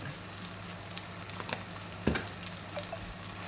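Turmeric, chili and coriander powders sauté in a pan for Kerala-style kadala curry, a soft, even sizzle with a few faint clicks and one clear utensil knock against the pan, quiet and close with no talking.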